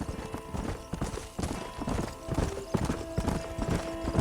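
Horse hooves clip-clop steadily in the Red Dead Redemption video game, a dense, close, continuous trotting rhythm over busy ambient game sound, with no talk.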